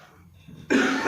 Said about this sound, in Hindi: खांसी बहुत उठ रही है